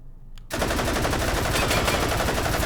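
An RPD machine gun in Hot Dogs, Horseshoes and Hand Grenades fires a loud, unbroken automatic burst that starts abruptly after a brief quiet moment and rattles on at a fast, even rate.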